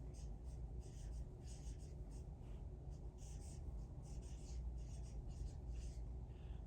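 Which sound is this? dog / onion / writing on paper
writing on paper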